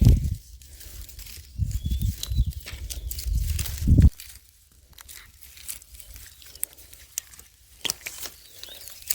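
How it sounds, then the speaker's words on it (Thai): Rain in a Thai forest: scattered drips and light patter tick irregularly near the microphone, with low rumbling handling noise during the first few seconds before it settles into sparse, quiet drops. "บรรยากาศฝนตก"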